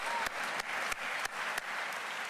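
Audience applause fills the hall at the Atlanta mayor's State of the City address, a dense, steady clapping sound punctuated by a few sharp regular thumps, fairly faint overall.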